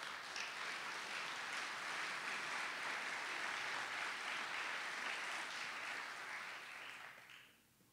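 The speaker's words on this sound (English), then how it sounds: "Thank you for that that applause" Sustained applause from an audience during a political speech at a Green Party of Canada evening event, steady and fairly distant, fading out near the end.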